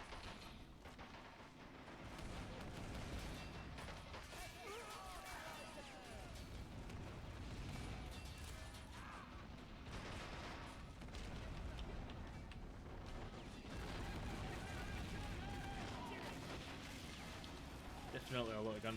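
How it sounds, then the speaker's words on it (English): Dense, continuous gunfire and booming blasts from a Men of War: Assault Squad 2 multiplayer battle, steady and loud throughout, with bursts layered over a rumbling backdrop. "Definitely a lot of gunfire going on left, right and centre."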